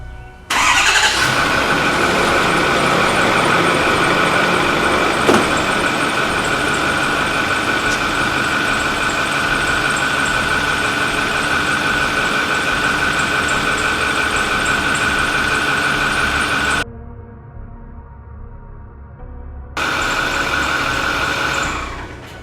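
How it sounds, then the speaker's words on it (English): A truck engine cranks and settles into a steady, loud idle that runs nearly the whole time, cutting out briefly near the end before resuming. "I'm going to crank the truck up"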